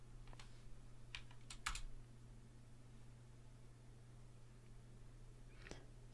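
A computer keyboard taps out a Linux command in a few quick bursts of close, quiet keystrokes, then falls silent over low electrical hum before one last keypress.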